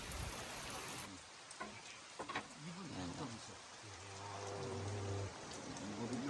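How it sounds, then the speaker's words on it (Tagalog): Heavy rain pours down steadily as a dense wash of falling water outdoors near a barangay hall. Faint voices and a low engine-like hum come and go beneath it. "Malakas ang ulan dito."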